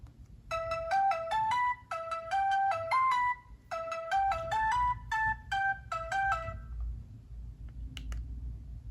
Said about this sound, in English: So those are all the ringtones on this phone.